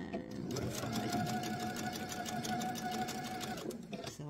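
A sewing machine stitching fabric for an eyeglasses case runs in a steady, even whir for about three seconds before stopping, close and clear.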